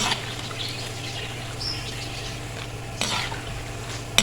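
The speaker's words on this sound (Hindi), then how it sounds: "बस 1 मिनट तक और फ्राई करेंगे और फिर इनको निकाल लेंगे।" Besan pakoras deep frying in hot oil, a steady close sizzle with occasional stirring scrapes and a sharp utensil tap near the end, no voices.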